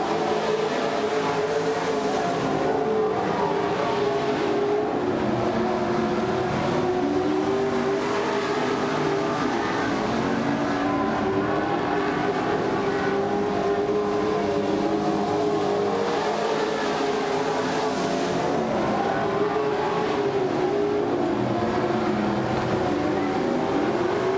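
Race cars circle a track late in the race, with three laps to go. Their engines make a continuous, loud, droning roar that rises and falls slightly as the cars pass, and no voices are heard.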